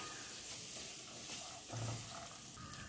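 Beans, carrot and capsicum are stirred in a pan, giving a soft, continuous sizzle with a few light scraping strokes, quiet and close, no voices.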